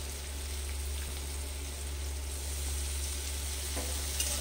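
Chopped ginger and potato pieces fry in hot oil in a pan, giving a steady close-up sizzle with faint stirring. A low, constant hum runs underneath.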